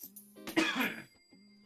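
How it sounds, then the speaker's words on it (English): A person coughs and clears their throat after swallowing water wrong, a harsh rasping burst between short voiced sounds, close and fairly quiet. "I just swallowed wrong. I do apologize for me coughing."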